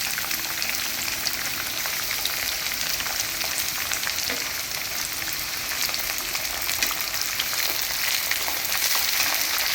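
Thinly chopped onion and green chillies crackling and sizzling in hot tempering oil with seasoning seeds, a dense, steady hiss close up and without pause, for a puffed rice snack.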